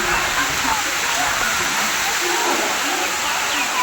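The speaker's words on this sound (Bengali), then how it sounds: "এখন অনেক জোর বৃষ্টি হচ্ছে।" Heavy rain pours down with wind in a dense, steady hiss, loud and unbroken, with a voice faintly audible beneath it.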